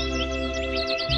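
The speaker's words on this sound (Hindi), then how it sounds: "दूर से आती है चिड़िया की आवाज।" Small birds chirp faintly in the distance in an animated cartoon scene, as a few quick, high twittering calls over a steady tonal musical background.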